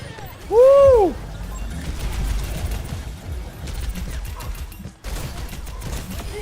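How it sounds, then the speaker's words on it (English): A loud burst in a 6v6 Overwatch match sweeps down in pitch near the start, then the game's crackling, rumbling effects carry on beneath ongoing play sounds. "What an explosion!"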